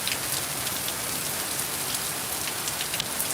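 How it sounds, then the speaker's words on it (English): Heavy rain pours down steadily and loudly, a dense unbroken hiss of drops beating on a surface with no voices. "Can't make up your mind today, huh, Rain?"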